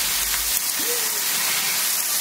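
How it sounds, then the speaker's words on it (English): Steady rain falls outside, making a continuous soft hiss with no distinct drops, fairly faint and even throughout. "but it started raining."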